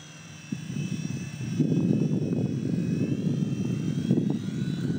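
Small V911 Pro radio-controlled model helicopter with its rotors spun up, a steady whirring drone that grows louder and stays sustained near the listener, no talk over it.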